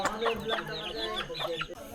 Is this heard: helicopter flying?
no